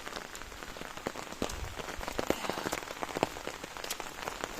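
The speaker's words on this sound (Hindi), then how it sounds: "एकदम से आ गई सुबह सुबह ही बारिश।" Steady rain patters on a surface with scattered louder drops tapping close by, no voices, moderate and continuous throughout.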